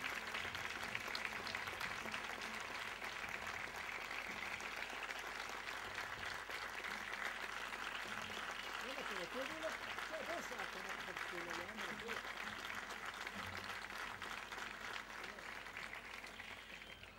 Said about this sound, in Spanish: La recibimos en el escenario también con un fuerte aplauso.